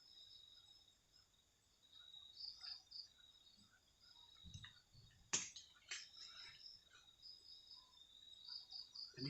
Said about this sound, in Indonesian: Ini ada suara jangkrik cuman.